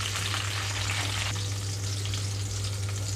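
Halved red chillies frying in hot oil over a low flame, a steady dense sizzle and crackle that runs unbroken at close range with no talking.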